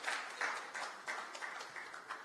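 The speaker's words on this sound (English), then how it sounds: "Let us give him a round of applause as she comes." Scattered applause from an audience at a grand finale event welcoming a speaker to the stage, moderate and somewhat distant, with claps rising in short waves.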